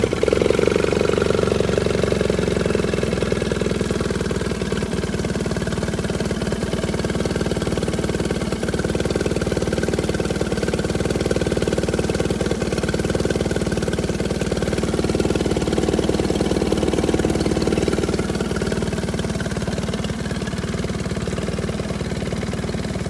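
A 2020 Tohatsu outboard motor (9.9, 15 or 20 HP) runs steadily during hose flushing, a loud, constant mid-pitched engine drone with no talking.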